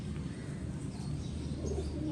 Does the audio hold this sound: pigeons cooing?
yes